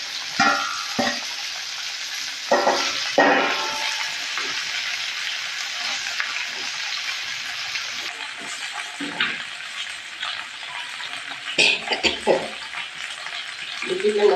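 Bhindi (okra) fries in a kadai, giving a continuous sizzle broken by stirring scrapes and clinks of the spoon against the pan, while someone speaks briefly now and then.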